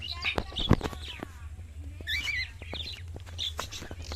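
A bird lover's flock of birds chirps and tweets nearby, with scattered bright calls, an occasional cluck and sharp clicks over a low background rumble.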